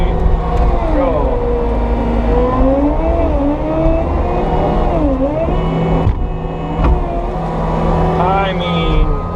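A CAT 299XHP compact track loader runs at full throttle, a steady loud close engine drone with shifting pitch as it works, a hydraulic whine rising near the end.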